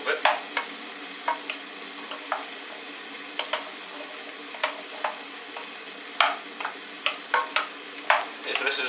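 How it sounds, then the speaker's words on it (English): Broccoli in vegetable stock cooking in a pot for soup, a soft bubbling bed broken by frequent sharp spoon clinks and scrapes as it is stirred, close and without speech. "So we want to kind of get the broccoli to the bottom a little bit"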